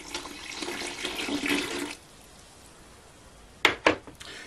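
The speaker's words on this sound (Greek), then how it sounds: "Θα βάλουμε 600 γραμμάρια νερό." Water pours into the bowl of a stand mixer for sourdough bread dough, a steady broad splashing stream lasting about two seconds, followed by quiet and then a couple of short sharp clinks or splashes near the end.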